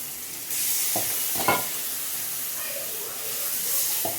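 Spices frying and being stirred in a pan for a taro-root curry with asafoetida, giving a steady sizzle with a few louder scraping stirs.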